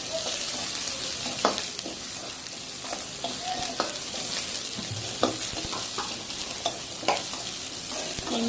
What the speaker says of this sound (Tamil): பச்சை மிளகாயோட வாசம் மாறுற வரைக்கும் நாம் இது லைட்டாக வதக்கிக்கலாம்.